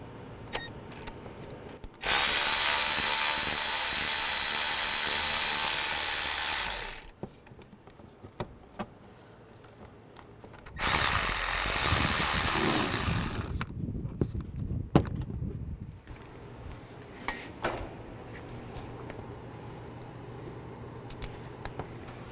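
A 10 mm socket on a tool backs out bracket bolts near the radiator cooling fan of a 2005-15 Nissan Xterra, producing two loud sustained whirring bursts of several seconds each, then quieter scattered clicks and handling noises close by.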